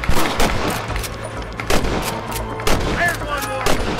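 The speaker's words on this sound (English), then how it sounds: "Good shooting, boy!" Gunfire in the Red Dead Redemption video game: a quick run of sharp, loud shots in irregular bursts, each with a short echoing tail, with a little voice and game sound mixed in between.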